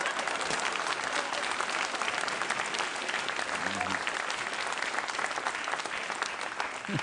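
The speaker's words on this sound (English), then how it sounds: "Not quite sure why the audience applauded" A studio audience at a late-night talk show breaks into loud, sustained applause that fills the whole stretch at an even level, with a faint voice briefly showing beneath the clapping.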